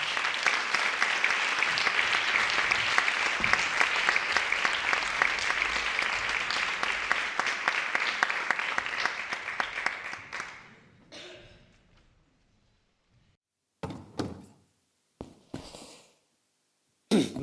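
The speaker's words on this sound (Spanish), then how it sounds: "Un fuerte aplauso." An audience at a talk on adolescent mental health claps loudly and steadily for about ten seconds before it fades out, followed by quiet, with a few short bursts of sound and a cough near the end.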